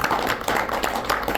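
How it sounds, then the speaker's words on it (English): A theater audience at a live event at the Fargo Theatre claps, giving a brief, dense patter of applause that carries on steadily throughout. "Big round of applause."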